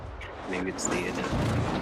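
Naval gunfire from a warship booms in World of Warships, heavy deep blasts rolling over game ambience while a player talks.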